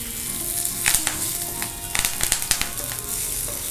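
Sliced bitter gourd fries in hot oil for a pachadi. It gives a steady sizzle, with sharp crackles and pops bursting out now and then.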